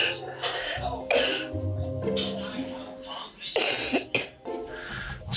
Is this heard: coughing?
yes